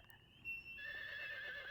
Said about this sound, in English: Find my horse. Where'd it go?